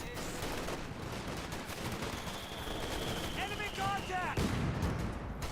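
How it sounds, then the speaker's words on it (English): Gunfire and artillery in the real-time strategy game Company of Heroes 2 as a Grenadier squad comes under fire, a steady dense barrage of shots and blasts with a faint whistling tone running through the middle, all continuous at moderate loudness. "And the Grenadier squad is taking some fire."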